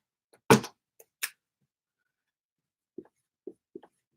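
Chalk or marker strokes on a board in a classroom come as a few quick scratchy marks, then a run of short soft taps, close and otherwise quiet.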